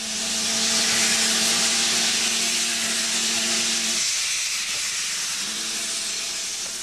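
Loud, continuous steam hiss from a locomotive, a broad rushing roar with a low hum underneath that briefly dips before continuing.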